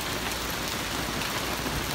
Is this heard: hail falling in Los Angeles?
yes